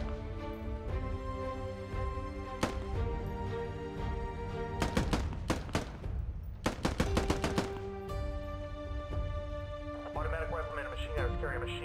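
Rifle fire in the video game Squad: scattered single shots give way to dense bursts of rapid cracks, mixed with steady engine-like drone and a voice speaking over the gunfire.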